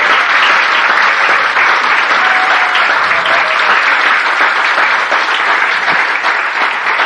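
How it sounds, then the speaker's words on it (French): Steady, dense audience applause at a community centennial celebration, loud and continuous from start to finish with no voices over it. "J'aimerais qu'on lui donne une bonne main d'applaudissement,"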